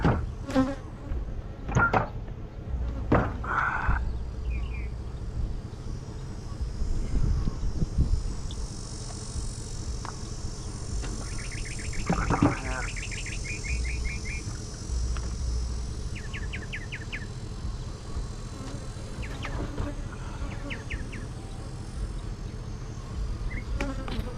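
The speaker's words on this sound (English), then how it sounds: "the bees are getting on it" Bees buzz continuously around hive boxes during honey harvesting, individual insects droning close by as they fly past, with occasional knocks and clicks underneath; nobody speaks.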